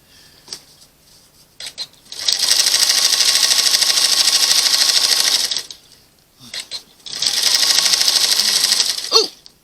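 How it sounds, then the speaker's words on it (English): Sewing machine back-stitching a quilt binding, two loud close bursts of fast rhythmic whirring, each a few seconds long, separated by a short pause with faint handling clicks. "I'm just going to do a little back stitch"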